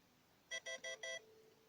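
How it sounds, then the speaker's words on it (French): A message notification ringtone plays four short, bright electronic chimes in an even rhythm. It sounds faintly over a quiet background and is followed by a brief lingering tone. "Sonnerie de message."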